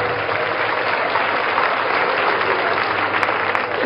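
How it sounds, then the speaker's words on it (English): Steady, dense applause from an audience at an educator appreciation comedy event, loud and sustained throughout with no pause. "Give her a round of applause."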